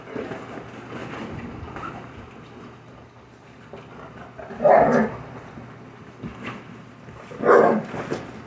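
Puppies in a house pack barking and yipping, with a steady scuffle of play underneath and two louder bursts of barks close by.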